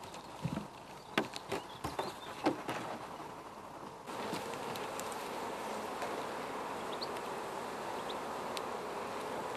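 Honeybees from an opened hive hum in a steady, dense drone close by, joined after a few seconds of scattered knocks and thumps as the hive boxes are handled.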